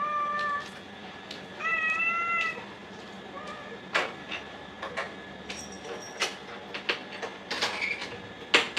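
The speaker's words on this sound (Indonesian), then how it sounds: "Kayak denger nggak kucingku tuh ngeong-ngeong terus loh, kayak minta buat pintunya dibukain." A house cat meows repeatedly to be let through a door, several drawn-out calls early on followed by scattered clicks and knocks, fairly close and alone without talk.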